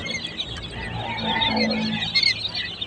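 Many young quail chicks, ten to fourteen days old and raised from incubated eggs, keep up a busy, overlapping chorus of high chirps and peeps, close by and steady, with no one talking.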